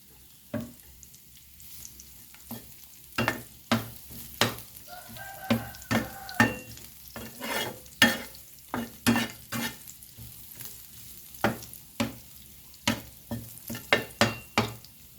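Garlic frying in a pan for a Thai omelette, steady sizzle with repeated sharp scraping and stirring knocks of a utensil against the pan, close and fairly loud, no talk.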